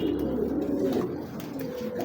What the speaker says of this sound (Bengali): ডাইরেক্ট কবুতরগুলো দেখাই, চলেন